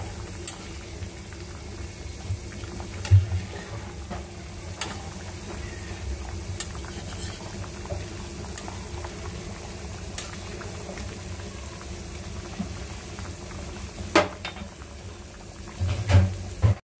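Water simmers in a pot on a gas stove in a home kitchen, a low continuous bubbling with a few faint clicks and knocks, and no talking over it.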